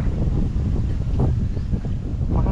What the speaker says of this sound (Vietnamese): Nhưng mà gió quá, gió à.